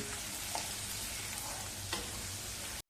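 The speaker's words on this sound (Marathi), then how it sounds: "फोडणी चांगली परतवून घेतली लसूण सोनेरी रंगावरती परतलेला आहे" Crushed garlic and white sesame seeds sizzle steadily in hot oil as a tempering, a close continuous crackle with a couple of light stirring scrapes.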